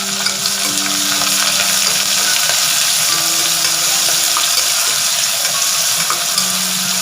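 Green chilies and onions frying in a pressure cooker, giving a steady, loud sizzle with a bubbling crackle that runs unbroken throughout, alone with no voices.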